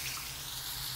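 Water pours steadily into a pan of fish curry seasoned with garlic powder, fish masala and salt, a soft continuous splashing stream, close and quiet, with no voices.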